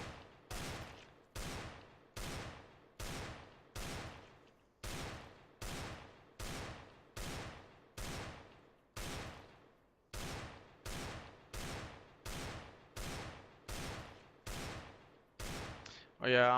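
Rapid, evenly spaced pistol shots from a Desert Eagle in a shooter video game, roughly two per second for about sixteen seconds, each a sharp loud crack with a short decaying tail, close and unaccompanied.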